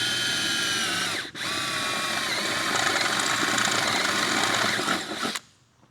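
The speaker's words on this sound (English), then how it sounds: "Let's go drill it." A power drill whines close by drilling a pilot hole in the body of a 1957 Chevrolet Bel Air, running steadily with a brief dip early on, then spinning down and stopping near the end.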